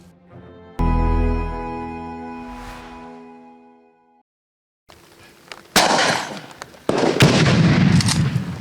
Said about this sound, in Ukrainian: Безсвольний гранатомет